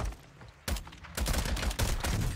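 Bursts of automatic gunfire in an online shooter video game, loud rapid volleys starting after a quieter stretch and continuing in dense repeated strings, with no talk.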